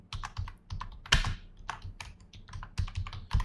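Fingers typing on a computer keyboard close by, with irregular clusters of crisp key clicks and an occasional louder thump, alone without talk.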